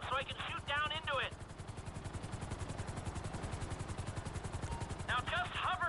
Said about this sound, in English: I need you to hold the chopper above it while I take a look